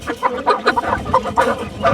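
A rooster at a poultry market in Sakarya clucks in a run of short, repeated calls, close and fairly loud, with a faint background voice.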